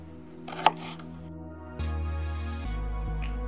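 An onion chopped with a knife gives a few quick, sharp cutting strikes close by, followed by a low steady hum with no voices.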